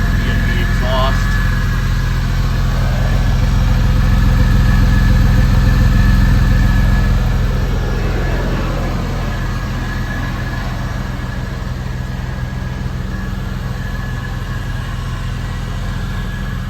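A 1999 Porsche Carrera cabriolet with a B&B exhaust idles after a cold start, a steady, close, deep rumble that swells slightly and then settles, with someone talking over it.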